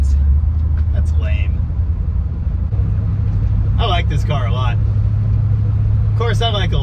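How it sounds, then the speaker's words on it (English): Steady low cabin rumble and road wind inside a moving 1968 Imperial Crown Coupe with its 440 engine, the wing window cranked shut, continuous beneath intermittent talking. "Even with the hand crank on the wing window, there's still wind noise."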